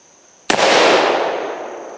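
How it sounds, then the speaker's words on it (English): A single sharp gunshot from an 1858 New Army revolver fitted with a .45 Long Colt conversion cylinder, fired at a brick outdoors, a loud close crack followed by a long decaying roar, no talking. "I'm gonna try and shoot that brick."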